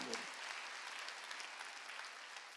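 A church congregation at a Korean Sunday worship service claps in steady, sustained applause, fairly faint and distant throughout.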